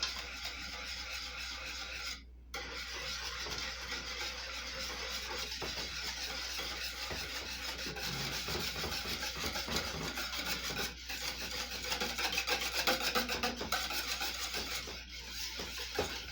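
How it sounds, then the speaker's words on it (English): A whisk scrapes and rubs steadily through a mixture in a bowl for a chicken casserole, with continuous close rasping strokes and a brief pause early on. "I'm going to mix this up real quick with my whisk"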